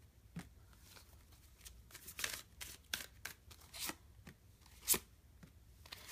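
Prisma Visions tarot cards being shuffled by hand, giving a series of soft, papery riffles and slaps spaced irregularly with one sharper snap near the end, close and quiet with no talking.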